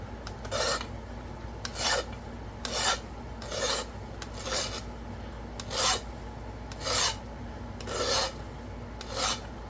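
Repeated rasping strokes of a flint preform edge being abraded during flintknapping, about ten regular scrapes at a steady rhythm, close and fairly quiet with no talking.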